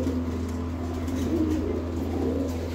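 Sialkoti golden pigeons coo in soft, low, throaty calls over a steady background hum, nearby and moderately loud.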